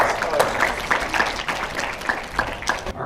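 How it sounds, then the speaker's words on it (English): A freshman geology class claps in a burst of applause, many hands clapping unevenly and close together, with some voices mixed in. "Give a round of applause."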